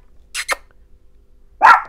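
Chihuahua barking indoors: two quick sharp yaps close together, a pause, then a louder single bark, all close and with no talk.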